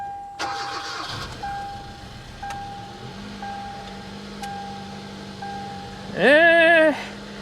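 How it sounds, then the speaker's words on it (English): A 2018 Mazda 3 engine that is running rough and misfiring starts with a loud crank, then settles into an uneven idle under a faint steady whine, ending with a sharp rising revving surge. "She's not running great right now. It's actually misfiring currently."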